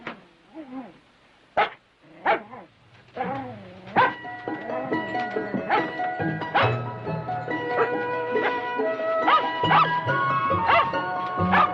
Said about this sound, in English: What's Jack barking about?